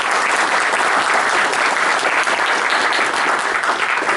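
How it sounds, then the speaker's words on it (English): An audience gives a dense, continuous round of applause for an outgoing president after his last speech, loud and even throughout with no talking. "Give him a round of applause"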